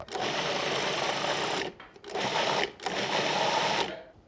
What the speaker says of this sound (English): So now we're gonna process everything until it's coarsely chopped.